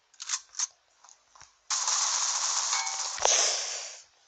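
Gunfire in the mobile shooter Critical Ops: a few short, quick bursts, then a loud, sustained rattling burst with a sharp crack near its end, fading out. No talk.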